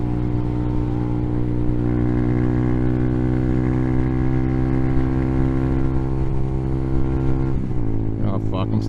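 A fully modded 2022 Hawk 250 motorcycle holds a loud, steady high-rpm engine drone during a highway top speed run, with the pitch dropping briefly near the end as it eases off, amid constant wind roar.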